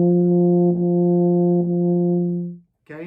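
A low brass tone holds one pitch through three long, connected notes with gentle re-articulations, close and full, then cuts off into a brief pause.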